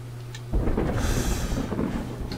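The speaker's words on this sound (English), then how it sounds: "Cut it out, it's just thunder." Thunder in the game WarGroove, a loud rolling rumble that breaks in suddenly and keeps growling and crackling, heard alone with no talking.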